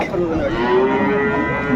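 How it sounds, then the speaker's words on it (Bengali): A cow moos in one long, low, drawn-out call, close and clear, with no talking, at a cattle market in Aftabganj, Dinajpur. "বেশ সুন্দর গাভী বাছুর দেখছিলাম এখানে"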